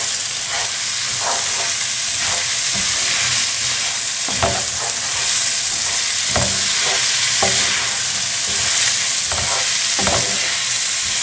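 Risotto rice toasts and sizzles steadily in a hot pot while a spoon scrapes and stirs it in repeated strokes, close and loud with no talking.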